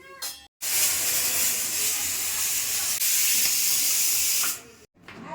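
Steam bursts in a loud, continuous hiss from a pressure cooker boiling mung beans and peas, holding steady for about four seconds before cutting off, with short breaks at the start and end.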